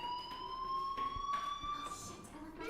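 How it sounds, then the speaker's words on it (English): A fire alarm in the video game Life Is Strange, a steady high electronic tone ringing continuously at moderate volume under faint ambient sounds and brief voice. "do you hear that fire alarm?"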